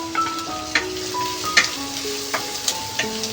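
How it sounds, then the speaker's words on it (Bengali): Two large chopped onions fry in a pan with a steady, close sizzle and occasional clicks of stirring. No one speaks. "এবার পেঁয়াজটাকে ভালো করে কিন্তু ভাজতে হবে এখানে।"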